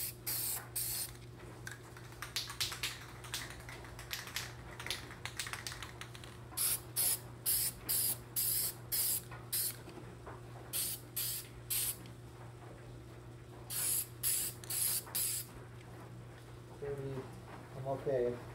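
Spray paint hisses onto a Star Wars Mcquarrie Boba Fett helmet during final paint coats, in a run of short, evenly spaced bursts over a steady low hum, loud and close.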